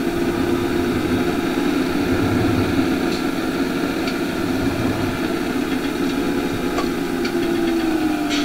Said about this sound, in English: Turbo whistle does sound pretty good.